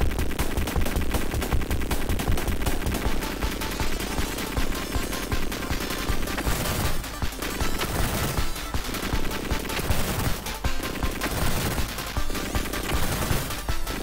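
Dense, rapid bursts of gunfire and explosions from the Genesis game Contra Hard Corps, loud and nearly continuous with brief gaps between volleys.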